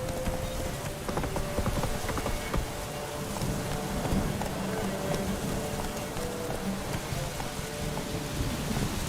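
Horses gallop in a race in The Witcher 3: Wild Hunt, a loud, dense drumming of hoofbeats over a constant rushing wash of noise.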